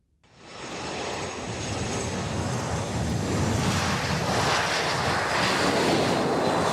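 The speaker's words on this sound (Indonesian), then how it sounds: "Ya, pesawat kepresidenan mendarat di Pangkalan TNI Angkatan Udara Halim Perdana Kusuma pada Senin malam." The Indonesian presidential aircraft lands at Halim Perdana Kusuma air force base at night, a steady loud jet roar that swells in within the first second and keeps building, with wind buffeting and no talk.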